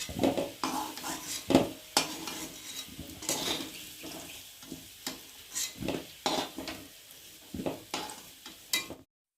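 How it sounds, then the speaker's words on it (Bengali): Potatoes frying in oil in a kadai for aloo dum, with repeated scraping and stirring clatters of a spatula against the pan over a steady sizzle, close and fairly loud, no talking. "আমি প্রথমে আলুগুলোকে ভালো করে ভেজে নিচ্ছি"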